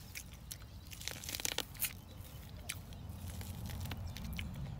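Someone bites into a raw sweet dwarf corn cob, close crisp crunches and juicy chewing in quick bursts, then quieter mastication.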